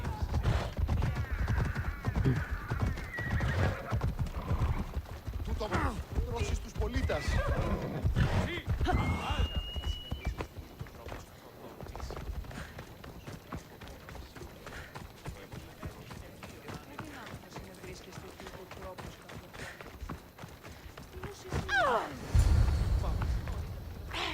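Horses neigh and gallop with clip-clop hooves while riders trample people in Assassin's Creed Odyssey, with a voice talking over the busy, fairly close game sound.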